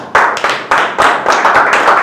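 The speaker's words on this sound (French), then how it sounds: "je vous inviterai, n'est-ce pas, à porter une salve d'applaudissements pour vous-même" A group of trainees at an MMA refereeing course gives a round of applause for themselves, with dense, close claps swelling in several bursts across two seconds.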